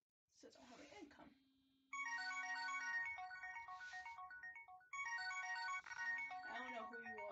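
A phone ringtone for an incoming call, a bright electronic melody repeating in loud bursts, mixed with a voice speaking near the start and end.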